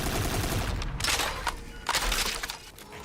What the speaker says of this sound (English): Are the gunshots too loud?